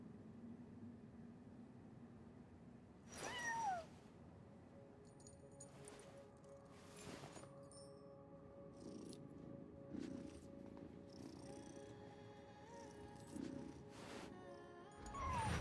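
A soft, steady cat purr from a video game runs throughout, with a couple of short meows rising above it, faint and close under light game noise.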